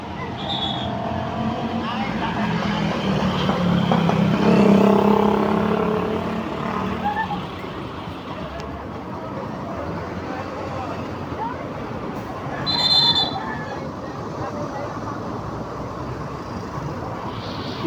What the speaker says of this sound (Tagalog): Tuloy-tuloy na dumadaloy ang mga sasakyan.